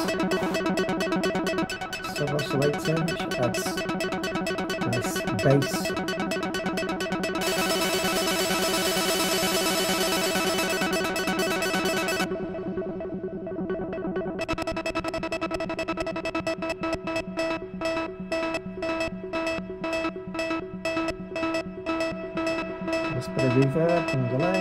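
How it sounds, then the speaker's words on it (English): A dense electronic synth sequence on a Roland Aira S-1 of rapid repeating notes over a steady low droning sub-oscillator bass, with a noisy bright wash in the middle, continuous and fairly loud. "Sub oscillator, which adds nice bass"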